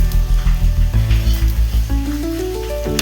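A jaggery and peanut stuffed flatbread fries in refined oil on a hot pan, giving a loud, steady sizzle with rhythmic scraping pulses as the oil is spread around, then an even hiss.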